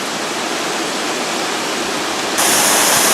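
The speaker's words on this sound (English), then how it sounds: "so here we are at the waterfall" Geraldine Falls in the Otways roars with a steady, dense rush of falling water up close, growing slightly louder and brighter partway through.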